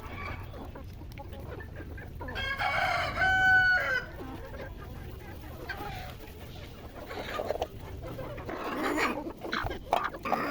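Hens on a backyard egg-laying flock cluck close by in uneven bursts, joined by a loud rooster-like crow in the middle and more scattered clucking toward the end, with no one talking.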